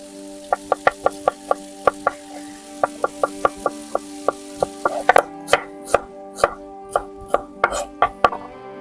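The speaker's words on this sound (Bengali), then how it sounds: "পেঁয়াজ কাটা হয়ে গেছে" A knife chops onions for chicken rolls on a cutting board, making crisp, evenly spaced close taps that speed up into a quicker, irregular rhythm partway through.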